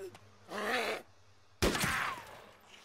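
Sharp gunshot with ringing tail in the DayZ Takistan mod, after a sniper rifle is taken up, heard once near the end, preceded by a burst of speech.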